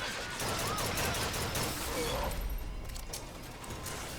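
Dense gunfire in the first-person shooter Bioshock Infinite, running on a low-end computer, with a continuous rattle of shots and bursts under game noise and clatter, loud throughout and thinning slightly toward the end.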